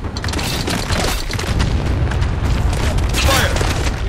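A loud booming explosion disabling a Hummer in Spec Ops: The Line, a sustained heavy roar with crackling debris filling the whole moment, with voices speaking over it.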